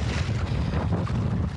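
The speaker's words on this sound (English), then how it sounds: "Quite windy, so I don't know if you guys can pick up the audio really well" Strong wind gusting across a lake while kayak fishing in winter at Castaic Lagoon, loud continuous buffeting roar on the microphone with a low rumble, no speech.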